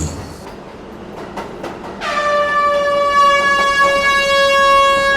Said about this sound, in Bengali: এমন সময় ট্রেনটা একটা স্টেশনে থামলো